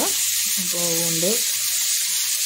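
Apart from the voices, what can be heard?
onions sautéing in a pan for vegetable biryani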